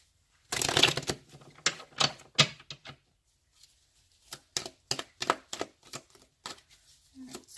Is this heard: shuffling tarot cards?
yes